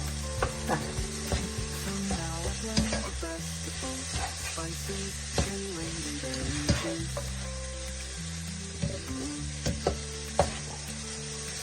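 Cabbage and coconut thoran is stirred in a hot pan, a steady frying sizzle broken by frequent knocks and scrapes of the spoon against the pan, close and continuous.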